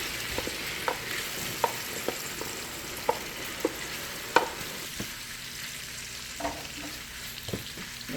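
Shrimp seasoned with lemon pepper sauté over medium-high heat in a pan for shrimp scampi, a steady close sizzle punctuated by light, regular clicks and scrapes of a utensil stirring them around.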